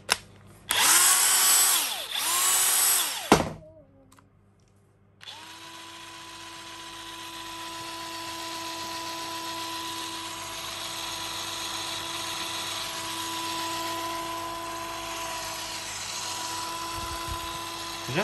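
A DeWalt 899 cordless impact wrench on a FLEX battery, first revving in short loud bursts with a high whine, then after a pause running continuously at a steady, fairly quiet hum for over ten seconds.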